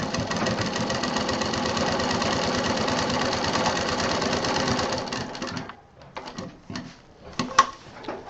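A sewing machine stitches the bottom seam of a sling bag in a loud, close, continuous run for about five seconds, then stops. A few faint handling clicks follow.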